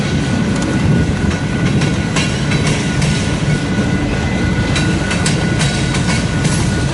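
Freight train with gondola cars rolling past on the rails in Fremont, Nebraska, loud and close: a continuous heavy rumble with rhythmic clickety-clack wheel beats and faint squeals throughout.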